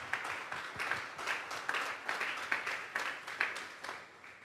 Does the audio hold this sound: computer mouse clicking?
no